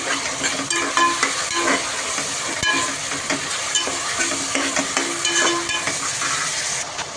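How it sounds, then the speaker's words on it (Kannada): Three tomatoes fry vigorously in a pan, a loud constant sizzle broken by frequent scraping stirs and clatters of a utensil, with no one speaking. "ಮೂರು ಟೊಮೊಟೊ ಹಾಕಿ ಚೆನ್ನಾಗಿ ಫ್ರೈ ಮಾಡ್ಕೊಳ್ಬೇಕು"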